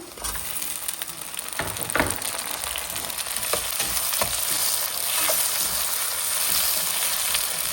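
Tomatoes tipped into onions already frying in hot oil for a South Indian dried anchovy curry, giving a steady loud sizzle with a few sharp spatula scrapes and stirs near the start, with no talking.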